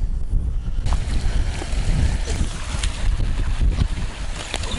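Strong wind buffets the microphone on Axe Edge Moor in the Peak District on an evening walk, a constant loud roaring rumble with gusting surges throughout and no speech.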